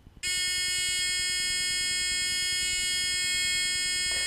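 Pressing a switch sets off an electric buzzer in a simple series circuit with an ammeter: a sudden, loud, steady electronic drone with a bright harmonic-rich tone, held unbroken for several seconds close up before cutting out at the end.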